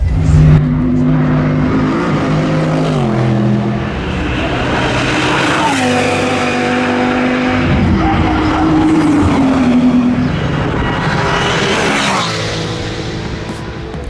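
Race cars roar past at the Nürburgring 24-hour race, their loud engines rising and falling in pitch as they pass and shift gears, with a continuous track din and no talking.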